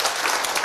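An audience at a Buddhist dharma lecture claps together, a brief burst of dense, close applause with no talking over it.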